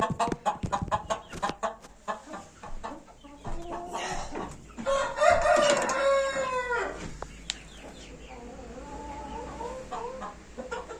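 Breeding hens cluck in short, close bursts inside a coop, and a rooster crows loudly in the middle, with quieter hen murmurs continuing afterward.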